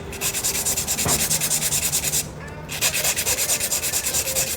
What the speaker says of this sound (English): 80 grit file